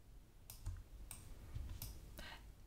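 Keys tapped on a computer keyboard produce a handful of sparse, quiet clicks spaced irregularly over a faint background hum, with no speech.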